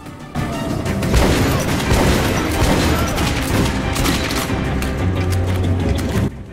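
Rapid gunfire and blasts in the video game Metro 2033 Redux, played on Ranger Hardcore during an armored car sequence, a loud continuous barrage of shots and booms with no pauses, up close and dense.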